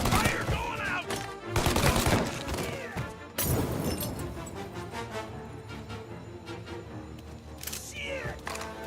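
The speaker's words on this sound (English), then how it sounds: "Gunshots heard. Please respond." Video game gunfire crackles amid a dense, busy mix of loud game sounds, with sharp broadband bursts clustering around the opening seconds and again near the end.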